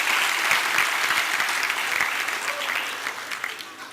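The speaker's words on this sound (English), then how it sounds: "they deserve a big round of applause" An audience at an Ambedkar Jayanti celebration held by HPCL claps for the members of the association, brisk dense applause that starts strong and gradually thins over about four seconds.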